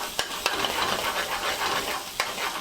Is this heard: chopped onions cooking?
yes